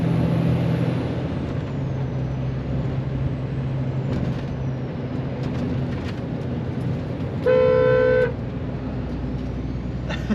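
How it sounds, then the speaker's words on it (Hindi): A single loud truck horn blast sounds for about a second, cutting through the steady rumble and hiss of road traffic on a New Zealand road. "मैंने हॉर्न बजाया था उसके लिए"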